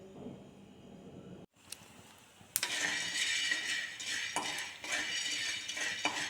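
Thora dal is stir-roasted in a hot clay pan, giving a soft tap and then steady, close scraping and rattling of a utensil through dry lentils, with a faint sizzle throughout.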